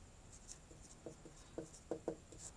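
A pen writes out a maths problem on paper in a class on ellipses, with faint close scratches and a few short taps, quiet and alone.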